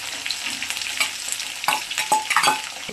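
Green chillies and onion dropped into hot oil, crackling and sizzling close up with a series of sharp pops and spatters over a steady frying hiss, no voices.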